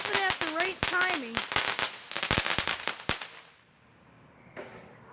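Neighbors set off Fourth of July fireworks, a rapid crackling volley of sharp firecracker pops that gradually fades, with a brief squeal and a faint crackle near the end.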